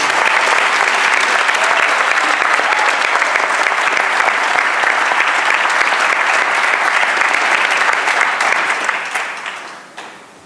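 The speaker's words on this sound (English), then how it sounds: "Miguel deserves another round of applause for a superb performance" Audience at a 2019 graduation ceremony applauds a performer's superb performance, a loud, dense, continuous round of clapping that tapers off over the last couple of seconds.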